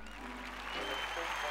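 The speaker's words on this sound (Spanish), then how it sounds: "Los aplausos para esta estrella de nuestro folclore." Audience applause for a folk singer at a televised talent-show semifinal, a dense, steady wash of clapping from a crowd that holds and swells slightly over a second and a half.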